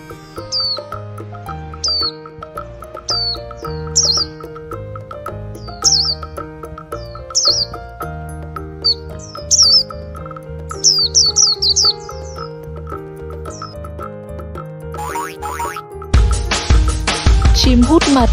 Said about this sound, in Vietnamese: Chim hồng y.